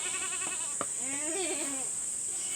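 A goat bleats once, a wavering, nasal cry rising and falling, against a steady high-pitched insect drone.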